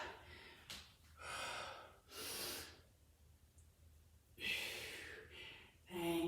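Breathing during a pilates workout, several audible breathy exhales and inhales spaced a second or two apart, close and soft with no talking.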